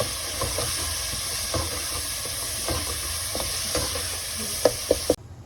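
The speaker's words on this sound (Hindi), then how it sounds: "इस पे हम टमाटर और हरा धनिया और हरी मिर्च, इन चीज़ों को इसके साथ मिक्स करके इसको भी नरम कर लेंगे।" Tomatoes, coriander and green chillies being stirred in a hot pan for a Sindhi rahu fish pulao, with a steady sizzle and scattered scraping strokes that end in three sharp clinks before the sound cuts off.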